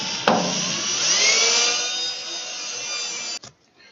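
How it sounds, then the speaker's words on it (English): Power drill boring a hole through a horse trailer's inside divider, a steady loud high whine grinding for about three seconds, starting and stopping abruptly, with no talk over it. "all you're gonna hear is the drill"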